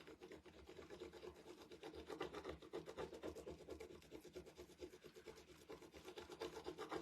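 Transfer stick rubbed repeatedly over a transfer laid on a vintage wooden cutting board, a soft continuous scratchy rasping with a steady back-and-forth rhythm, close and quiet.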